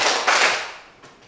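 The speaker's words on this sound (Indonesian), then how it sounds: "Tepuk 2" A class claps together twice in quick unison on a teacher's cue in a classroom, with reverberant bursts that fade out quickly.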